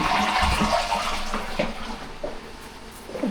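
Toilet in a small bathroom with a bidet, flushing with a gushing rush of water that gradually tapers into gurgling refill, close and alone.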